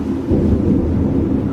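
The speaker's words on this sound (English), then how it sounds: "Hello, thunder." Deep, loud thunder rumbles steadily through a heavy thunderstorm in Japan, with rain lashing against windows beneath the continuous low roar.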